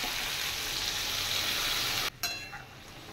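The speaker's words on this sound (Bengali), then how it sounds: "ডালটা ফোড়ন দিয়ে দিচ্ছি।" Spices crackle and sizzle steadily in hot oil as dal is tempered in a home kitchen, a dense continuous frying hiss that drops away abruptly near the end, leaving a softer lingering sizzle.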